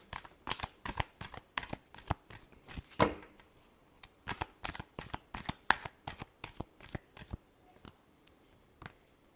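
Tarot cards being shuffled close up, a steady run of quick, crisp riffling bursts repeating rhythmically, with no voice over them.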